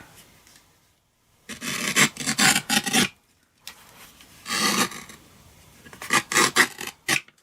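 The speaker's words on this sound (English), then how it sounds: "bring in my trimmer and then line that up and cut." A paper trimmer cuts cardstock in three separate bursts of raspy, scraping strokes, close and fairly loud, with short pauses between them.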